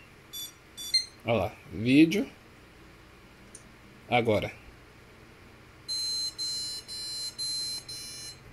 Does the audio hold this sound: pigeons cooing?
no